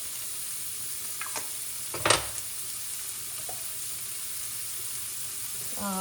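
Beef sizzles softly in a pan on medium-high heat as a low, steady frying hiss, with a few scattered clicks and one sharper knock partway through.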